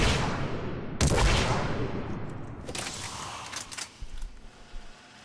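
Disciple shotgun in Mass Effect 3, fired from the hip: two sharp, loud blasts about a second and a half apart, each trailing off in a rumbling echo, followed by faint clicks and thuds.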